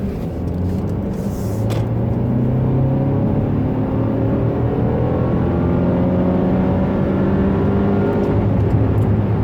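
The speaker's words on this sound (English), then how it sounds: "So let's do a quick freeway acceleration." A 2017 Mercedes-Benz GLC 300 4Matic accelerating hard on a freeway, engine note rising steadily through the gears under loud road and wind rumble, heard from inside the cabin with no talking.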